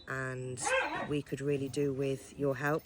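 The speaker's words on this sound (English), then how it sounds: "If you hear any barking and stuff, it's the dogs." Dogs barking and yelping in the background of a home recording, short repeated barks and whines mixed under a woman's steady speech.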